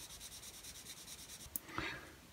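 Fine sanding on a plastic model part to remove an ejector pin mark: quiet, rhythmic back-and-forth rubbing strokes, close up, followed by a small tap and a brief handling rustle.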